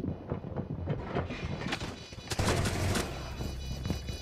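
Video game gunshots crack in quick, irregular volleys, some close and loud, others sporadic, over a busy background of in-game noise, with no talking heard.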